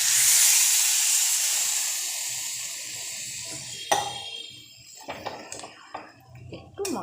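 Water poured into a hot pan of spices for a vegetarian potato curry (aloo dum), giving a loud burst of hissing steam that gradually fades, followed by scattered clinks and scraping from a utensil.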